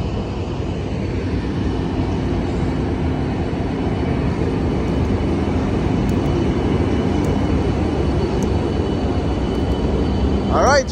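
Amtrak Capital Corridor train #541 rolls into Berkeley Amtrak Station with a steady, loud rumble of wheels and engine throughout, and a brief rising squeal near the end.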